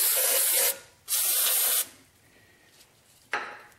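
Brake cleaner sprayed onto the rear brakes of a Mercedes-Benz in three loud hissing bursts, two longer ones close together and a short final burst after a quieter pause.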